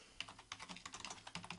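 Typing on a computer keyboard, a quick, quiet run of irregular key clicks and taps heard close up.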